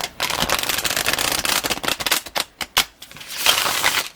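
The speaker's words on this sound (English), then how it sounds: "there's quite a bit of snap to these cards. So I've been shuffling them mostly off camera" Tarot cards with a crisp snap are shuffled by hand in quick, close bursts of riffling clicks and flutters, broken by short pauses.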